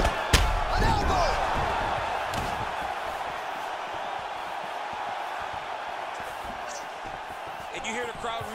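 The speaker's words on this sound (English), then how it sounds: "you hear the crowd react every time they come together" A packed arena crowd at a UFC bout roars steadily throughout, swelling as heavy strikes and elbows land, with a sharp impact near the start and sustained loud cheering beneath.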